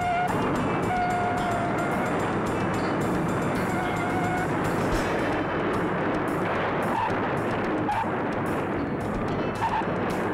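Stock cars roar flat out around the high-banked track at the 1964 Daytona 500, a dense, steady wall of engine noise from a grandstand distance, with no talk over it.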